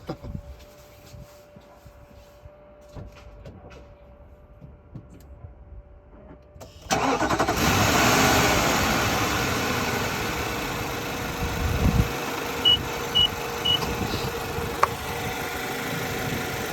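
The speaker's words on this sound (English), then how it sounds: "Now it says start the engine, so I'll go and start the engine" A 2011 Infiniti QX56 with a suspected weak battery cranks and starts after quiet moments of rustling, then settles into a steady, loud idle with a constant engine hum close by.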